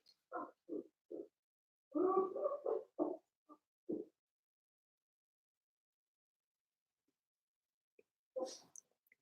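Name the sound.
dog barking at the front door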